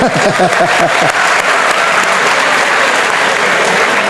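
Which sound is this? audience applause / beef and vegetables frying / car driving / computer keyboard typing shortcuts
audience applause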